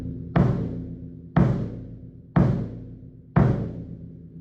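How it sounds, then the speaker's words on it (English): Four evenly spaced bass drum strokes, hand-dampened to sound shorter and more detached, each deep thump decaying before the next hit. "the use of hand dampening can make the bass drum sound short and detached"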